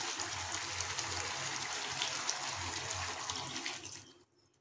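Hot water with cornflour mixed in is poured over chicken and vegetables in a pan for a Kolkata-style stew, a steady splashing stream that runs nearly four seconds, then cuts off into quiet.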